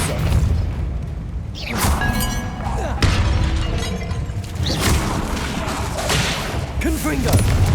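Depulso repelling spells in the video game Hogwarts Legacy land as sharp shattering bursts and booming impacts with whooshes, repeated over several seconds amid dense, loud combat noise, with voices mixed in.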